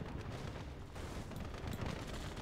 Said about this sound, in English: it's a civilian shooting at me